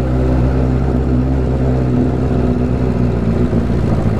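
A Suzuki GSX750F motorcycle engine idles steadily up close, a loud low throbbing drone with a slight change in pitch partway through.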